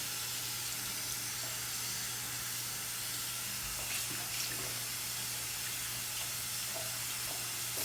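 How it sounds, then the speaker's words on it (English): Cold tap water runs steadily into a sink, rinsing a sticky hair unit, with a continuous broadband splashing hiss and a low steady hum underneath, no talking. "I've rinsed it with cold water."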